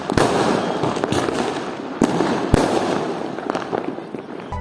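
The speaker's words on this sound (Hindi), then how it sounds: "हर कोई आतिशबाजी छोड़ने में लगा हुआ है" Diwali fireworks crackle and pop continuously with several sharp bangs standing out, loud and fairly close, amid a dense background of bursts.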